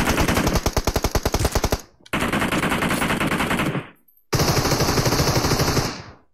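Automatic weapon fire in the battle royale game BGMI, three long bursts of rapid evenly spaced shots, loud and close, separated by brief pauses of silence.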